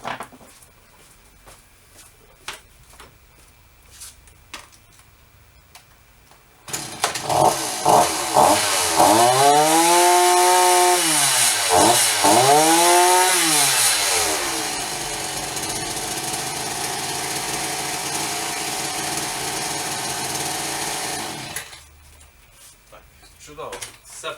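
A new King BC530 petrol brush cutter engine roars to life, revs up and down with whining pitch sweeps, then settles into a steady, slightly too high idle before cutting off.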